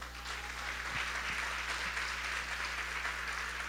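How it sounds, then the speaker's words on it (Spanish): A church congregation at a women's gathering claps in a soft, continuous patter that sounds somewhat distant, over a low steady electrical hum. "Dale un aplauso a Dios."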